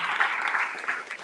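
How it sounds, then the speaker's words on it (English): An audience at an annual general meeting applauds their president in a short, dense burst of clapping, fairly steady and mid-level. "Give him a round of applause."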